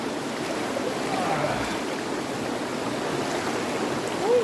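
A fast-moving river at a cold plunge spot gives off a steady, broad rushing roar nearby, with a faint swell of water noise near the end and no clear talking.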